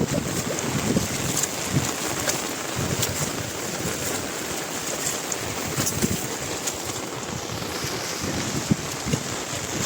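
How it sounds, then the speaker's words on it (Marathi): Floodwater pours through a burst embankment of a rice paddy during heavy monsoon rain, making a continuous broadband rushing roar with gusty buffeting and faint splashes throughout. "बघा सगळं पाणी तिकडे जातं आहे खाली."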